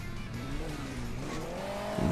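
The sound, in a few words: sports car driving in a video game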